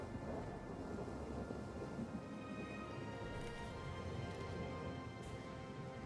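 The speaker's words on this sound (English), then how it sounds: "Oh, it's raining." Video game thunderstorm with steady rain hiss and a low rumble of thunder rolling underneath, constant and moderately loud, with no voices.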